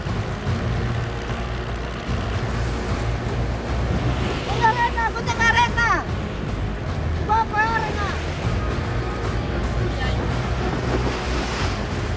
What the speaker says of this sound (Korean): 갑자기 파도가 심해집니다.